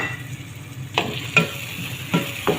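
Tomatoes for a tomato-and-egg dish sizzle softly in a frying pan while a utensil scrapes through them in four distinct strokes over a steady low frying hiss.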